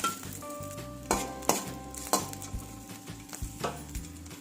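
Green chillies, then tomatoes and fenugreek leaves, frying in a little oil in a pan, with gentle sizzling under repeated scraping and knocking of a spoon against the pan, close and moderately quiet.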